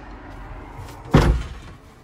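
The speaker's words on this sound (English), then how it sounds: "So I'm gonna close this door." The door of a 2015 Autosleeper Nuevo EK motorhome swings shut with a single solid thump, near and fairly loud, followed by quiet.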